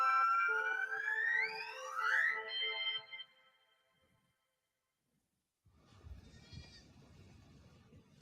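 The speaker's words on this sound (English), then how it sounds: "There's a goat here." A goat bleats loudly and close by in a long wavering cry, rising and falling over about three seconds, followed by silence and then some soft rustling noise.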